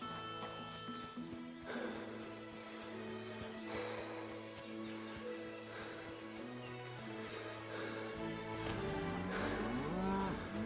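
A cow in the video game Kingdom Come Deliverance II gives several long, low moos over about ten seconds, close and loud, with game ambience and music beneath.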